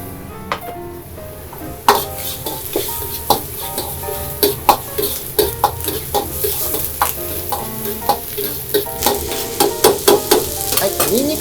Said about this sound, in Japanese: ニンニクと生姜がしっかりと炒まれば